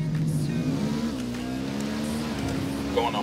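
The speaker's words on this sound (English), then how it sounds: "I'm hearing engine noise." Vehicle engine in the Ghost Recon Wildlands video game, a steady mid-pitched drone with slight revving, continuous and fairly loud under game voices throughout.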